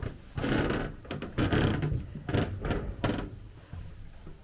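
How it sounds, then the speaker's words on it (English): An old wooden door at a mine building in Creede, Colorado rattles and knocks in several dull thuds and scrapes, close by, with a slight shuffling between hits and no speech. "We just gotta close the door when we leave."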